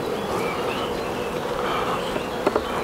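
Honeybees hum in a dense, continuous buzz while a Dadant hive is opened for inspection, moderately close, with a couple of faint knocks near the end and no speech.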